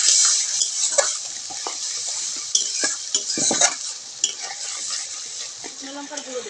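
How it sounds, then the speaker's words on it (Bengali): Spices with salt and turmeric sizzle and fry in a pan for a potato curry while a spoon stirs and scrapes, with steady close frying and intermittent clinks of utensil against metal. "লবণ হলুদ দিয়ে মশলাটাকে ভালো করে আমি কষিয়ে নেব।"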